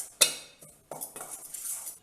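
A metal spoon scrapes and clinks against a bowl while stirring flour and hot water into dough, in a few short, close, fairly crisp bursts with brief pauses between strokes.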